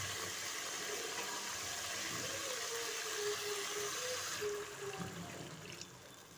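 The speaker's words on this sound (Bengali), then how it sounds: "আমি জল দিয়ে দেব।" Water pours steadily into a pan of spiced curry base for a thin shingi fish jhol, giving a continuous rushing, trickling sound that softens toward the end.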